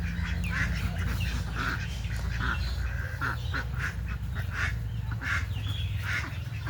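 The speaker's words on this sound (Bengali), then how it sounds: "সব হাঁসগুলোর পিছনে পড়ছে" A flock of ducks, including Chinese ducks, quack loudly and repeatedly while being chased and scattered, a busy overlapping chorus of calls over a steady low background hum.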